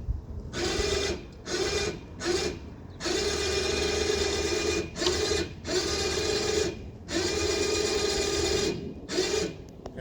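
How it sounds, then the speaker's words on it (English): A winch reeling line onto a spool while hoisting a small skiff onto a bus roof, giving a steady mechanical whir that runs in several long stretches broken by short pauses, loud and close. "now I'm just making sure it's winding onto the spool correctly"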